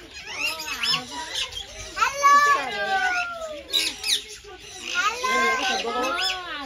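Parrots squawk and screech in scattered, overlapping bursts at Indira Gandhi Zoological Park, Visakhapatnam, mixed with people talking and lively chatter nearby.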